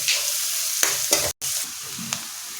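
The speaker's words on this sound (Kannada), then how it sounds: "ಸಣ್ಣ ಚಮಚಗೆ ಒಂದು ಅರ್ಧ ಚಮಚದಷ್ಟು ಅರಿಶಿನ ಪೌಡ್ರ್ ಹಾಕಿ ಮಿಕ್ಸ್ ಮಾಡ್ಕೊತೀನಿ" Half a spoon of turmeric powder stirred into a hot oil tempering for poha, with a steady close sizzle broken by a few short spoon scrapes and a brief gap; no one talks.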